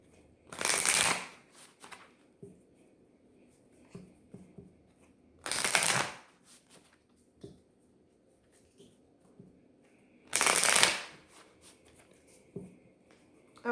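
Work Your Light Oracle card deck shuffled by hand in three loud, riffling bursts of about a second each, with soft card handling and small taps in between, close and without talk.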